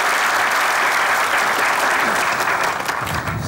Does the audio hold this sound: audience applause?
yes